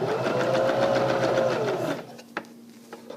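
A sewing machine stitches along a pillow seam, running steadily and close for about two seconds before stopping, followed by a few faint clicks and taps.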